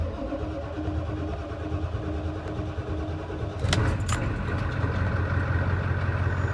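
A Ford F-250 with a 7.3 IDI diesel and a leaking fuel heater idles with a low hum. Midway it cranks and fires, then settles into a louder, steady diesel running note.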